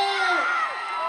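A crowd cheering and whooping, with excited shouting voices rising and falling over a sustained roar, loud and close.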